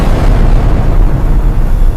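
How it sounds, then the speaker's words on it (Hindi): A fortress blows up in an animated cartoon: a loud, sustained roaring blast of broadband rumble and debris noise that fills the whole moment without any pause. "और अगले ही पल पूरा फोर्ट्रेस विस्फोट में घिर जाता है।"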